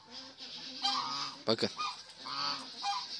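A female goose honks repeatedly nearby in deep, throaty calls, with a brief spoken word partway through.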